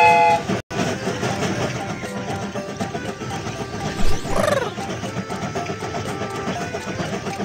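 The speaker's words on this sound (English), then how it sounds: "The train is about to start." A cartoonish mobile-game train rumbles along steadily with a rhythmic mechanical chug, and a brief rising whistle-like tone sounds midway.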